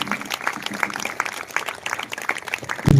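Audience applause rings out in a church setting during a sermon, a dense, steady patter of clapping lasting throughout, with a sudden low thump near the end.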